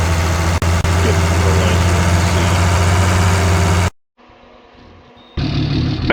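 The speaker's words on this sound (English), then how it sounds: "we just got in the truck and got it started" A truck engine idles loudly in a farm simulation game, a steady rumbling drone that cuts out abruptly, leaves a quiet gap with a voice, then resumes.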